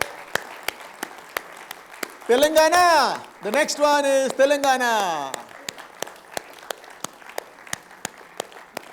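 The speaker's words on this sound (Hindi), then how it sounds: "तालियां रुकनी नहीं चाहिए." Sharp, steady rhythmic claps sound close by throughout, while a voice speaks loudly over them in the middle.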